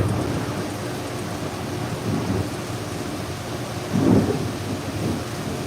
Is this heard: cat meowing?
no